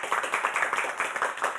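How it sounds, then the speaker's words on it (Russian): Crowd applause at an evening song concert in Gomel, a steady dense wash of clapping from many hands filling the whole stretch without pause. "Это достойно бурных аплодисментов"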